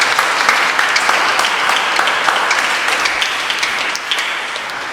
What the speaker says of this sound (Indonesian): Tepuk tangan sekali lagi untuk Pastor James